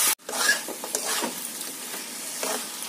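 Meat being stirred and sautéed down in a pan, Bengali kosha style. Continuous close scraping and stirring runs over a bright sizzle, after a short pause at the start.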